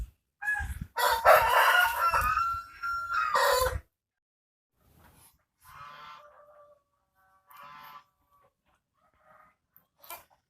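A crossbred kampung rooster crows once, loud and close, a drawn-out call lasting a few seconds, followed by quieter scattered clucks and chicken sounds amid near silence.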